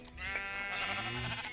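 Sheep bleating in the Minecraft video game, a single wavering bleat heard clearly and close, with no talking over it.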